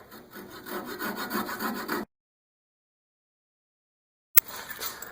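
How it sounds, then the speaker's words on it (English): A coping saw cuts off the remainder of a wooden piece while making power sanding arbors, giving about two seconds of steady, close rasping strokes, then silence before a short burst resumes. "Now I'll just saw off the remainder here with a coping saw"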